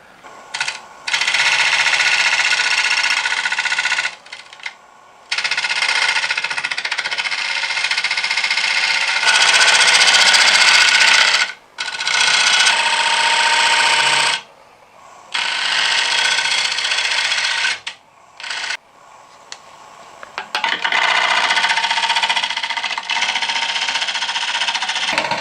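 Wood lathe turning an oak bowl while a tool cuts away waste: loud, harsh bursts of broadband scraping and shearing lasting several seconds each, separated by brief pauses, close and continuous throughout.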